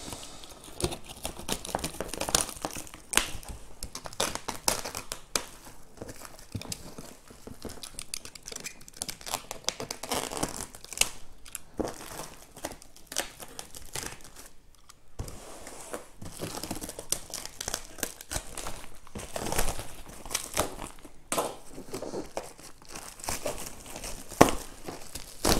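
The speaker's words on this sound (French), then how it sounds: "je vais utiliser un simple cutter pour déballer ce fameux colis" A simple utility cutter slicing open a parcel holding inline roller skates, with steady close crinkling, tearing and scraping of packaging throughout, no talk.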